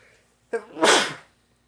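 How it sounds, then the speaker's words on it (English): A single sharp sneeze, close and loud: a quick breathy intake followed by a burst, then quiet. "I'm gonna sneeze."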